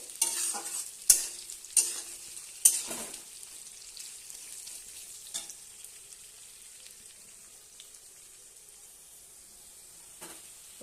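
Onions frying in a pan until brown for a Bengali meat and potato curry: a steady soft sizzle with a few sharp stirring clacks early on, then quieter even frying, close and alone.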